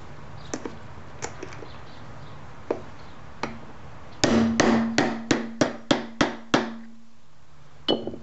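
Wheels being hammered onto the axle of a Nelson Rain Train 1865 lawn sprinkler: a few light taps, then a run of about eight loud, ringing metallic blows at a steady rhythm, with a few softer taps after, up close and alone.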